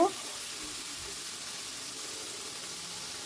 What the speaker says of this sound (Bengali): ভেন্ডিটাকে এবার একটু নাড়াচাড়া করে দিচ্ছি, একটু ফ্রাই করে নেব।